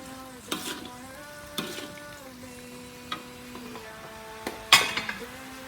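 Cabbage stir-fried in a frying pan for a gulai and sambal kikil dish, with intermittent metal scrapes and clanks of stirring over a faint sizzle and a steady background hum.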